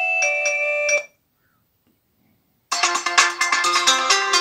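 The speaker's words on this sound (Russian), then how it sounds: "Это получается, наверное, как MP3 рингтоны." A Mobistel Elson EL560 dual-SIM phone plays an MP3 ringtone loudly: a melodic tone runs for about a second, cuts to silence, then a fuller, busier tune starts and keeps going.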